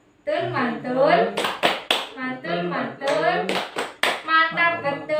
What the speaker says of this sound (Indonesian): Oke, kita beri tepuk.